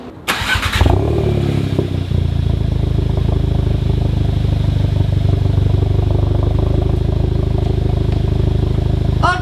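A VW MK7 Golf R fitted with a Nameless Performance catback exhaust cranks and fires up loudly, then settles into a steady, deep idle rumble close by. A brief word is spoken at the start.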